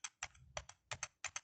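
Keys on a computer keyboard are pressed in an irregular run of crisp, close clacks, coming in pairs and short bursts like Enter and Tab presses during data entry.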